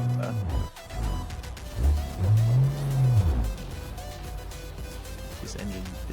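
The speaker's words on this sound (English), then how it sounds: "This engine is not healthy at all." A worn, unhealthy truck engine in the BeamNG driving game revs up in a single rising and falling surge, then settles back to a rough idle.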